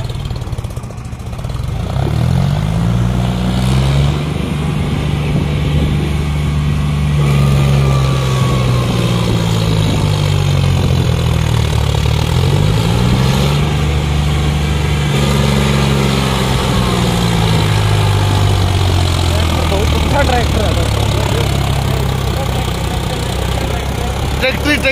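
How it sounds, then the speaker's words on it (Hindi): A John Deere 5042 tractor engine chugs loudly and steadily nearby, its low drone rising and falling in pitch as it revs, with faint voices underneath. "ट्रैक्टर है दोस्तों, ट्रैक्टर।"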